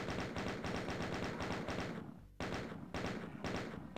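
Rapid machine gun fire in a Doom mod level from Community Chest 4: loud, evenly spaced shots in a continuous burst, a brief pause, then another sustained burst.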